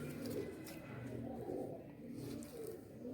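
A large pigeon coos steadily in low, rolling throbs, close and continuous, with faint voices in the background.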